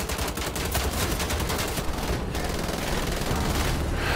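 A spinning, rotary machine gun carried by a monster soldier fires without a break in the video game Wolfenstein: The Old Blood, a loud and dense rattle of gunfire that fills the whole stretch.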